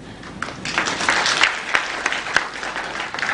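Workshop audience on waste reduction claps for themselves, a fairly small room of hands with individual claps standing out sharply at an irregular rhythm, moderately close and without talk.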